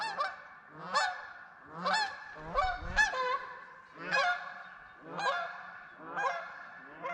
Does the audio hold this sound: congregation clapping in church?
no